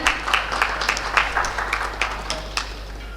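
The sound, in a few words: audience applause at an expo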